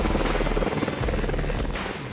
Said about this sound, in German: Um die zu ziehen, müssen wir zuerst das Vorseil einfliegen mit dem Helikopter.